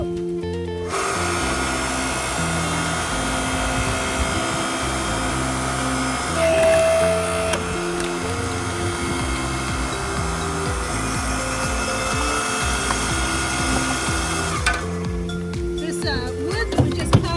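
A small two-handed log splitter works through wood in steady mechanical strain, a continuous loud grinding drone with a brief sharper crack partway through.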